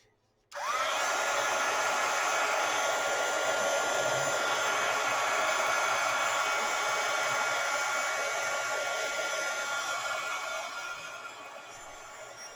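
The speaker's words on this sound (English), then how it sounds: "So I'm going to go ahead and dry that a little bit." A hair dryer switches on abruptly and blows steadily at close range, drying craft paint on paper, with a constant whooshing hum that eases off slightly near the end.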